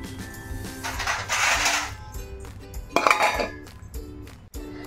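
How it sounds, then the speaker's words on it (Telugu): A metal lid is set onto a cooking pot where raw banana pieces boil with turmeric and salt, giving a few close clinks and clatters of metal against metal over a quiet kitchen hum. "దీని మీద మూత పెట్టుకుందాం."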